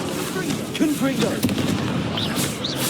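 A Confringo explosive spell goes off in Hogwarts Legacy, giving a muffled booming blast amid a steady rumbling din, with a voice speaking over it.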